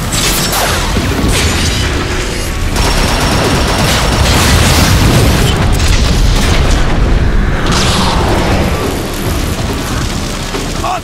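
A loud, sustained barrage of booming explosions and blasts in the video game Transformers: Fall of Cybertron, dense and continuous, with mechanical clanking mixed in.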